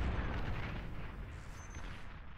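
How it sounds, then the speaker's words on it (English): A sniper unit fires in a real-time strategy game, a single sharp crack at the very start trailing into a long, rumbling echo that slowly fades. "So they'll hear the sniper sounds."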